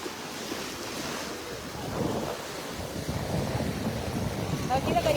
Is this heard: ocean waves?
yes